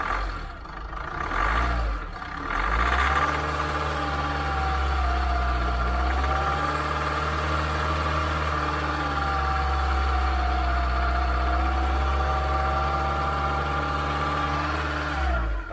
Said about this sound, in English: give it a rev to 2000